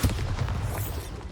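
A Bombarda spell explosion in the game Hogwarts Legacy: a dense, booming blast with a rumbling low end that sustains loudly through the whole short moment.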